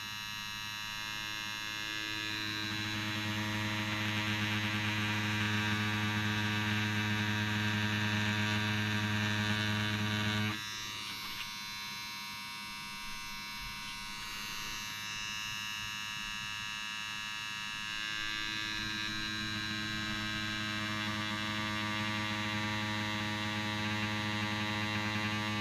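A Dragonhawk Mast Fold rotary tattoo machine running with a steady electric buzz and hum, fairly quiet and close, its pitch shifting abruptly partway through as the speed changes, with no talk over it.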